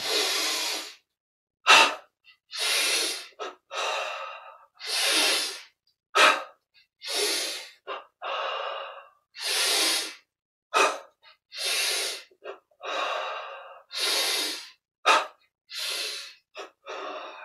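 A person breathing deeply during meditation: about a dozen strong, airy inhales and exhales follow one another close up at a slow, regular pace, with silent pauses between them.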